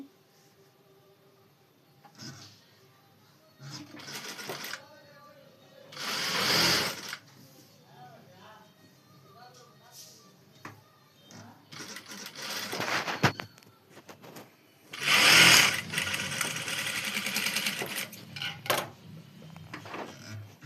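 A sewing machine stitches blouse shoulder seams in bursts of rapid whirring separated by pauses, close by and moderately loud, with a few handling clicks between runs.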